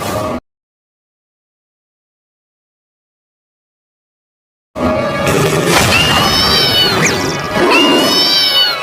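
Cartoon cats meowing loudly and repeatedly in distress while their mother fights a lion, after a brief blast and a stretch of silence, with crashing scuffle noises mixed in.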